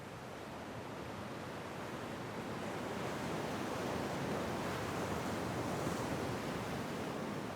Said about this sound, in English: I watch the ocean endlessly pummeling the rocks.